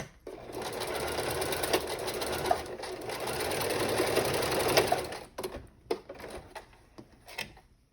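A sewing machine stitches a short seam on a tote bag, running steadily for about five seconds, then stopping and starting in brief bursts, close and fairly quiet.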